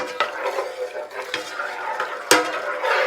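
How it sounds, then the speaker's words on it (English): Wire whisk stirring a thick chicken and cheese pie filling in a cooking pot, a series of soft scraping swishes with several sharp clicks of metal against the pot, close and moderately quiet. "I like to get my wire whisk and I like to stir it a little bit"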